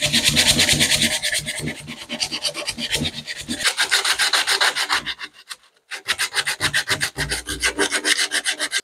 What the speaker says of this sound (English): I'm filing off edges that annoy me